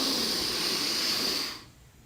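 A slow, deliberate breath drawn in through the nose, a soft airy hiss held steadily for about a second and a half before cutting off into near silence.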